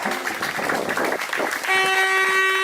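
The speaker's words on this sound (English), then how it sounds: "Give yourself a round of applause with that" An outdoor Black Lives Matter protest crowd in Wolverhampton claps in a dense, continuous patter for a moment; then a long, steady car horn cuts in and holds over the noise.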